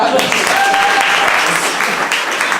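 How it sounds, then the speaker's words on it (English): Audience applause for an English accent, a steady dense wash of clapping throughout with a few voices calling out over it. "I think we should give the English accent a round of applause."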